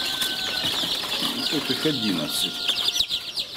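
Young chicks in a brood cheeping in high, rapid chirps that run continuously, heard close up under a voice speaking.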